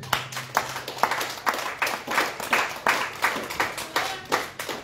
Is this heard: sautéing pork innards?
no